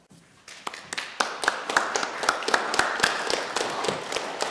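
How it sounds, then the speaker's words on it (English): A small group of scouts claps for the adults at an Arrow of Light ceremony, distinct nearby claps building into a loose, uneven round of applause. "I'd like each of the scouts that are here tonight to stand up and give a round of applause for the adults that are here"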